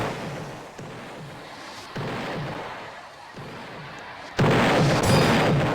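Deep game explosions in a Roblox pirate game, a series of four booming bursts spaced a second or so apart, the last one loudest and most sustained, with no talking.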